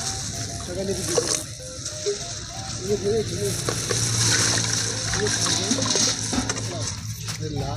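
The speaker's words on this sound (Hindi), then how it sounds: "हरी मिर्चियों को हमने डंठल तोड़ लिया है और इसको हम एक साफ पानी में धो लेंगे फिर से।" Green chillies with stems removed are washed in clean water, giving close splashing and light clinking sloshes that carry on steadily while a voice talks over them.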